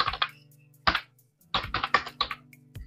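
Bursts of keystrokes on a computer keyboard as a PAN card number is entered, clustered taps in quick groups separated by short pauses, close and clear with no talking.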